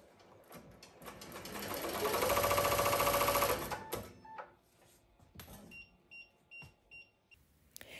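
Ricoma MT1501 embroidery machine stitching a design, a rising whirr of rapid needle strokes for about two seconds that stops, followed by a few short beeps and mechanical clicks.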